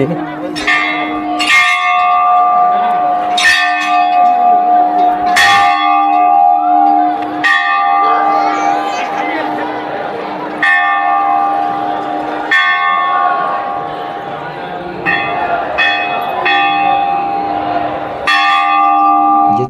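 A large temple bell rings again and again, each strike ringing out with a long humming tone. The strokes come at a steady, unhurried pace and fill the space.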